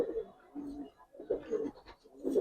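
Jabra Giribaz pigeons coo softly in a loft, with a series of low, rolling coos repeating in close succession, fairly near and quiet.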